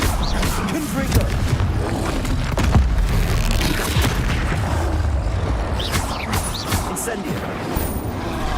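Confringo blasting spell explosions in Hogwarts Legacy, heard as heavy booms and crashing impacts in a loud, constant wash of game action, with a voice mixed in.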